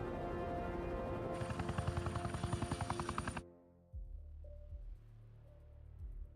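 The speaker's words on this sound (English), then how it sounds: "Helicopter." A helicopter in the Hitman video game approaches with a loud, rapid throbbing rotor beat over a droning engine, then cuts off abruptly into quiet game ambience with a few dull thumps.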